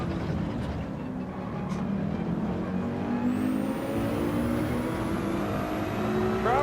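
A Ferrari race car engine in Gran Turismo 7 drones loud and steady, with shifting pitch as it pulls through corners and no speech over it.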